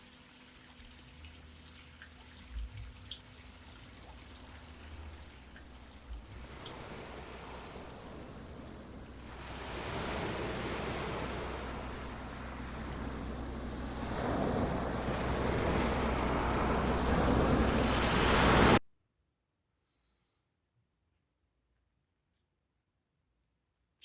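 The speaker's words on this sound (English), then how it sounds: "if you listen closely, you can even hear the waves hit the shores of an exotic alien beach" Steady rushing wash like ocean waves heard in a conch shell, swelling gradually louder over about twenty seconds and then cutting off abruptly into silence.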